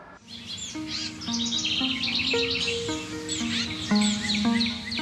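Birds sing in the Yanacocha reserve cloud forest near Quito, Ecuador, with repeated clear whistled notes and chirps from several birds, fairly close, overlapping in a lively continuous chorus.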